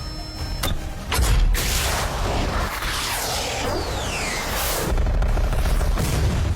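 A fighter jet firing a missile in a movie scene, heard as a burst of booming rumble and whooshing sweeps with a sharp impact near the start and heavy low explosive rumble swelling again toward the end.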